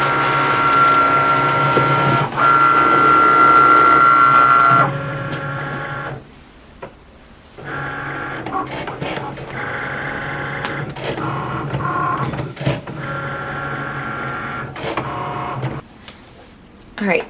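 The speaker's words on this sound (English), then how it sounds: "we want it face down on the mat so that our machine actually cuts through the HTV" A Cricut cutting machine slicing heat transfer vinyl on a mat, a whirring motorised buzz with shifting carriage movements and short pauses, moderately loud and close, under occasional talk.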